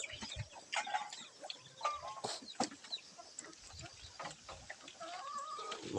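Chickens clucking at close range on a Filipino farm, with scattered short calls and rustling over steady outdoor background noise, no talking.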